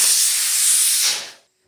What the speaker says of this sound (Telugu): బుడ్డి కుక్కర్లో పెట్టిన అంత బుస్బుస్ అని బయటకు వస్తుంది